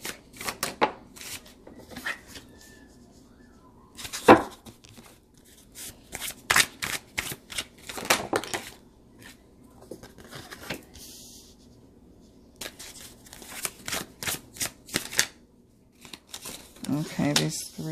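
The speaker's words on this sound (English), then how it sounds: "I need to be gentle as I shuffle this deck." Tarot deck shuffled gently by hand, with repeated soft riffling and flicking bursts of cards close by, spread across the span between quieter pauses, with a person speaking intermittently.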